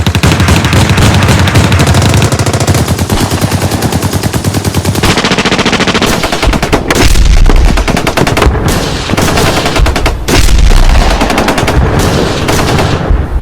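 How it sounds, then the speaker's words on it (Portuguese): Intense, loud gunfire: rapid machine-gun bursts and overlapping shots rattle continuously, with brief gaps between volleys, close and dense like a battlefield. "vemos ambos em um ambiente de guerra com vários soldados mandando tiro para cima deles"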